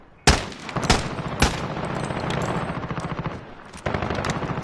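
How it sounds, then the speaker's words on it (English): AN-94 Russian assault rifle firing in Call of Duty Modern Warfare, with sharp loud shots opening up, then a rapid rattling string of rounds and another burst at the end, close and dominant with no talk. "It's a Russian gun, and the magazine's tilted a bit to the left, so it will do a 2-round burst function."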